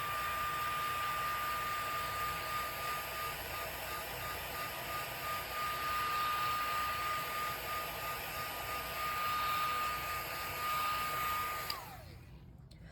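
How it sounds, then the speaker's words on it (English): A heat tool on its low setting blows steadily over freshly inked card, a close, even whooshing drone with a thin high whine running throughout, until it switches off near the end and the whine drops away. "So I'm going to use my heat tool on a low setting"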